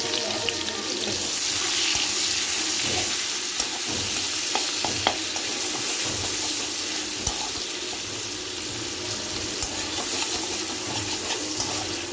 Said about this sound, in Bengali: মাছের জন্য এই পেঁয়াজ আমি কিছুটা মাছে ফ্রাই করব